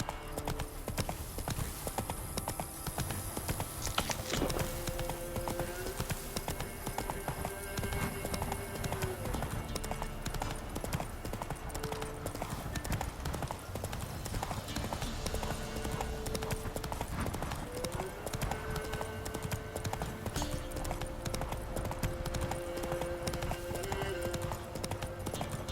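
Horse hooves clip-clop in a steady, continuous rhythm throughout a ride in The Witcher 3 video game, with game music and occasional voices beneath, and a brief whinny heard.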